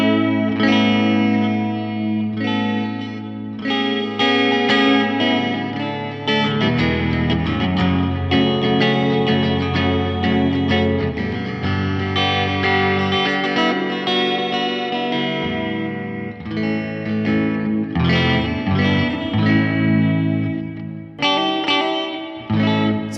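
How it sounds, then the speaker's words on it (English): An electric guitar played through a Fender Mustang Micro headphone amp with its Modulated Reverb effect, giving chords and notes a wide, shimmering wash in loud, sustained phrases with short gaps between them. "This is the Modulated Reverb, so check this out."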